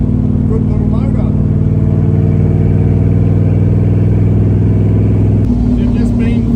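A fully rebuilt Holden 304 V8 with a big camshaft and EFI removed idles loud and close with a rowdy, lumpy chop, a rhythmic throbbing beat that shifts slightly near the end while someone talks over it.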